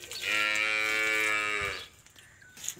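A buffalo lets out one long, loud, deep moo at close range, held for about a second and a half before fading into quiet, with no talking over it.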